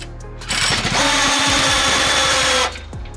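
A small go-kart engine runs steadily at idle outdoors in a university parking lot, a loud mechanical rattle throughout that stops near the end.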